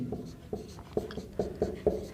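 Chalk or marker taps and strokes on a board while a physics problem is worked out, six short crisp writing sounds in an irregular rhythm, close and fairly quiet.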